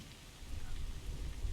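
Steady rain pouring in the Assassin's Creed video game, a dense hiss of drops with a low rumbling undertone, continuous and moderately quiet.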